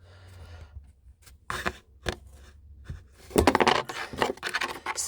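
Cutting a piece of handmade bezel wire for jewelry making, a series of close, sharp snips and scraping clicks, sparse at first and then denser toward the end.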